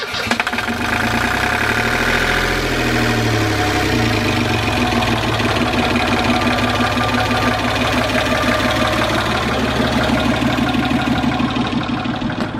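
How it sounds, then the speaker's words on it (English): A Volvo Penta 28-horsepower boat engine, slightly warmed up, cranks and catches within about two seconds, then settles into a loud, steady, knocking diesel idle close by. "the Volvo Penta, 28 horses, slightly warmed up"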